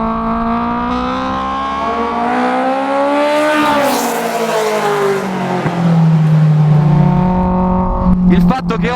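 A Honda S2000 with a VTEC engine swap and straight-through exhaust revs hard from inside the cockpit, a loud raspy engine note climbing steadily, easing off, then settling into a deep drone with a brief sharp crackle at the end.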